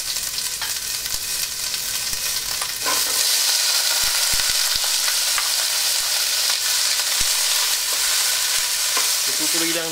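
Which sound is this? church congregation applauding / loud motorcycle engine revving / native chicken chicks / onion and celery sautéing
onion and celery sautéing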